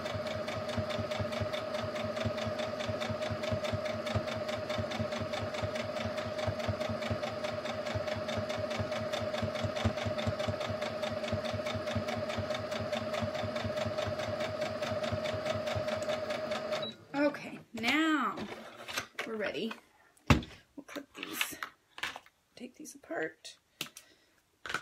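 A sewing machine stitching mittens runs continuously on its start-stop button, a fast even rhythmic whirr up close for most of the stretch, then it stops and a person talks.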